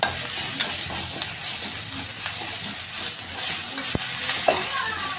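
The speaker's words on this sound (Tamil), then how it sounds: "இது நல்லா வதங்கினதும் இதில் புதினாவை வதக்கணும்." Mint leaves sauté in a pan alongside onion, green chilli and curry leaves, producing a dense, steady hiss of frying with soft stirring scrapes and one sharp knock.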